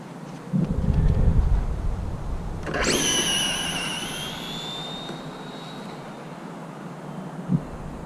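A Traxxas Drag Slash RC car makes a drag run, opening with a brief low rumble, then a sharp rising electric motor whine that screams loudly for a few seconds before fading as the car speeds away.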